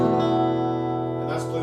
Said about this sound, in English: Our next chord is E Sus4, which sounds like this.